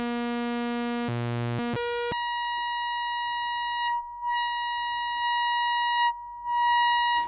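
Buzzy Moog Grandmother synthesizer tones step through several pitches, then one bright sawtooth note holds steady and loud, its brightness shifting slightly as it sustains.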